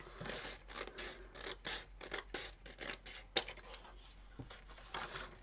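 Scissors cut through paper at a craft table in a steady series of crisp, close snips and rustles, one sharper clack partway through, with no one speaking.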